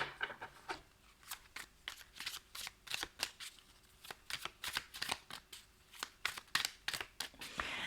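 A deck of oracle cards being shuffled for a card reading, a rapid series of crisp riffling and slapping bursts, close and fairly quiet, repeating in an uneven rhythm with no talking.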